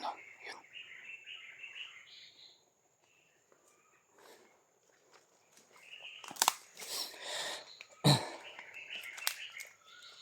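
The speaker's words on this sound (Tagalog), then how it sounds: "May ibon o." Birds call in a quiet mountain forest: short bursts of high chirping near the start and again toward the end, between footsteps, rustling and a couple of heavy thumps.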